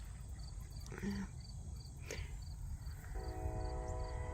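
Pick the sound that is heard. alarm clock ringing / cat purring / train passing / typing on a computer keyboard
train passing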